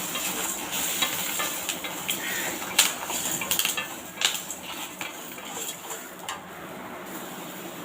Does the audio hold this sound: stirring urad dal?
yes